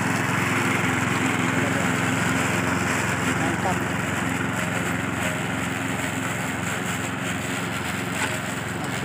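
A grass-cutting machine runs steadily at close range, a constant high buzzing engine drone through tall weeds, loud and unbroken throughout.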